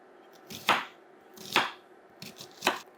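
A knife chops through a medium yellow onion on a board, three distinct, evenly spaced chops heard up close with no one speaking.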